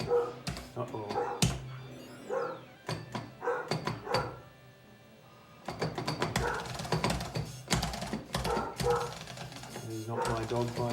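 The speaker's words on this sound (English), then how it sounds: "Not my dog, by the way." A dog barks in the background, with sharp, scattered barks under a person's near-constant talking and busy retro video game music.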